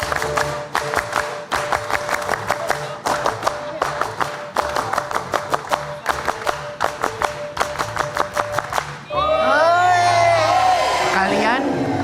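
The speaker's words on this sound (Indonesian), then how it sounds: "3 kali tepuk pramuka" A group claps the rhythmic Indonesian scout pattern three times, sharp synchronized bursts of hand claps in a repeating beat, near and loud, followed by cheering and voices.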